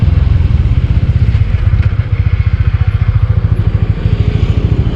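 A motorcycle engine thrums loud and close during a mountain ride from Delhi toward Binsar near Almora in India, a fast, steady pulsing beat with light clatter and no voices over it.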